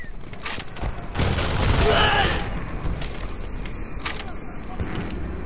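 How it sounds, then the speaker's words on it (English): Heavy explosions from an enemy airstrike rumble through a Homefront team deathmatch on the CulDeSac map, a swelling blast in the middle with scattered gunfire, while players talk over the noise. "Enemy airstrike incoming!"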